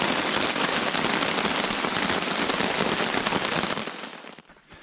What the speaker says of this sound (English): Can you hear the rain? It's absolutely chucking down right now.